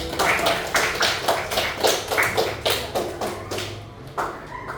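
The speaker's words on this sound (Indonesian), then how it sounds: "tepuk tangan untuk kelompok 3." Audience clapping for a student group after a classroom negotiation role-play, a loose run of sharp hand claps with uneven rhythm, moderately close and fairly steady before tapering off near the end.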